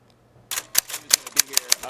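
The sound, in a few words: typewriter typing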